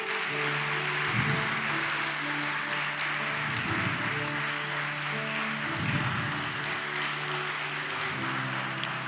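A church congregation applauds during a worship service, steady clapping throughout the clip with sustained tones underneath and no voice over it.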